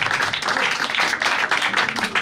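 Audience applause at a music showcase in Paris, a dense, steady wash of clapping hands from a crowd that keeps going throughout.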